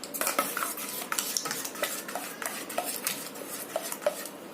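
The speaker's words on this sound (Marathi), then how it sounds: "असं प्रकारे सारखं गोल गोल फिरवत राहायचं" A spoon scrapes and clinks repeatedly against a metal pot as homemade butter is stirred round and round, a close, busy rhythm of strokes with no talking.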